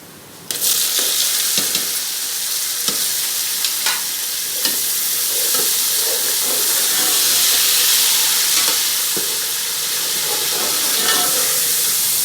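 Chopped onions browning in hot oil in a pan for a matar pulao, giving a loud, steady sizzle and hiss that runs the whole way with a few light stirring scrapes.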